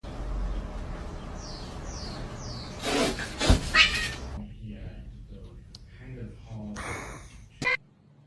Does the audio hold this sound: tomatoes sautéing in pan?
no